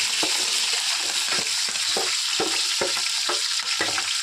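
Chopped green chillies frying in oil for a fish curry, a continuous close sizzle with rhythmic spoon stirs and scrapes against the pan.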